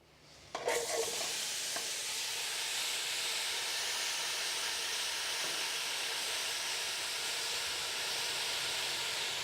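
Apples dropped into hot oil for an apple crisp on an infrared grill burst into a loud sizzle that settles into a steady, close frying hiss and lasts unbroken to the end.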